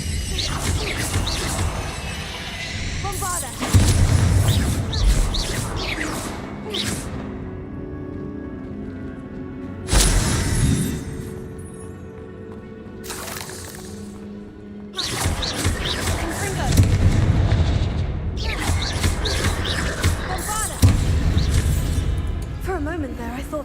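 Bombarda blasting spell from the wizarding game Hogwarts Legacy, bursts of crashing, shattering impacts separated by quieter stretches, with a player talking over the fight.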